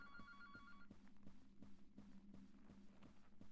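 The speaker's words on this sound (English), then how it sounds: "Where's the dang phone?" A short trilling phone ring at the start of a video game scene, then gives way to rhythmic low thuds and a humming drone, with no voices.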